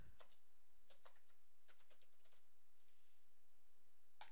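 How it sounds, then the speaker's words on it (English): Keys being typed on a computer keyboard to enter a password on a Windows 8 machine: irregular soft clicks in short bursts, faint and close, with no speech. "I have to type in the password for my live account."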